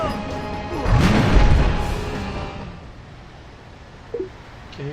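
A tank army attacks in Civilization Revolution: a loud crashing impact swells into a booming rumble that fades out, followed by a brief smaller hit.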